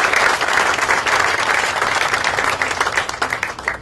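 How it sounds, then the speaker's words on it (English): Enthusiastic audience applause at a home builders' charitable playhouse reveal, dense clapping that stays strong and thins slightly toward the end. "give these folks a round of applause too"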